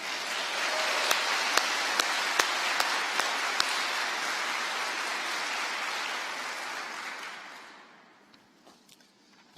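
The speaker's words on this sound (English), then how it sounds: "give you some applause" An audience at a NASA event breaks into sustained applause, a dense and even roar of clapping that tapers off toward the end and leaves near silence.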